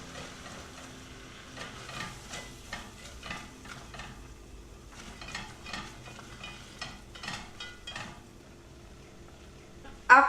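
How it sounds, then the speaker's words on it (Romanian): Flour being stirred into melted butter in a pot for a creamy mac and cheese roux, with a soft, steady scraping and sizzling that comes in repeated strokes, close by, and a louder knock right at the end. "După ce s-a topit untul, adăugăm făina pe toată odată și amestecăm bine."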